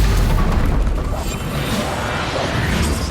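Stupefy spell cast in the video game Hogwarts Legacy, heard as a loud, dense magical blast with a deep rumbling impact that stays heavy and sustained throughout a short burst of combat.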